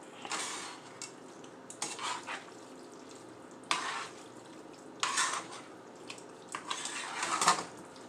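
Shrimp being stirred into a sizzling pan for shrimp pasta: intermittent bursts of scraping and clattering stirring rise over a low, quiet sizzle, with no talking.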